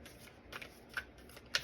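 Animal spirit oracle cards are shuffled by hand close to the listener, with soft riffling and a few sharp papery snaps that arrive at irregular intervals against a quiet room.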